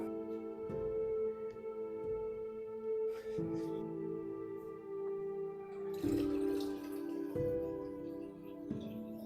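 Water runs into a vessel from a tap as it is filled for the table. The stream is steady and fairly faint, and its pitch shifts in distinct steps as the level rises.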